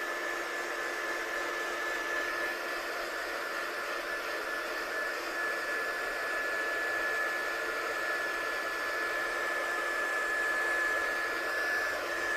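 A heat tool blows steadily on Izink Diamond 24 Carats textured paste, heat-setting it as a background, a continuous loud airy whoosh with a faint steady whine running throughout without pause.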